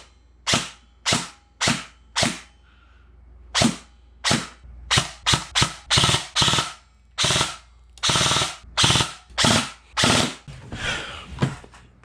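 An M4-style airsoft or replica rifle fired with no magazine in, giving sharp, close, dry mechanical snaps in single shots and short irregular bursts, alone without talk.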